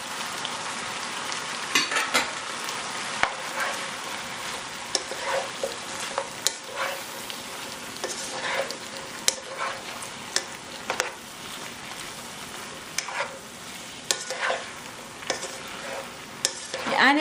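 Mushrooms, peas and carrots sautéing over high heat, a continuous close sizzle with frequent scraping stirs and utensil clicks throughout, no voices.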